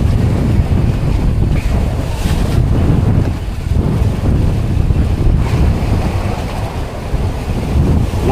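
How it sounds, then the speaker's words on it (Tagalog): Rough sea with strong southwest monsoon wind battering the microphone, waves surging around a small fishing boat out on the Pacific; a loud, continuous roar of gusts and churning water with no talk. "Maalon ang karagatan mga amigo."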